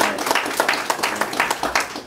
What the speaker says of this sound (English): Can we get a round of applause for Nikki?